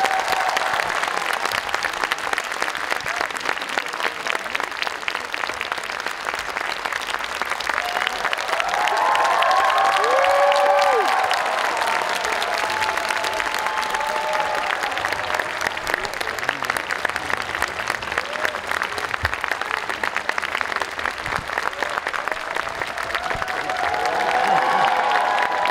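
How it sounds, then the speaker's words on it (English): A large theatre audience applauds and cheers to welcome actor Song Kang-ho and the moderator to the stage at an Academy Museum screening of Memories of Murder, with steady dense clapping for the whole stretch and occasional whoops rising above it. "Please give a round of applause"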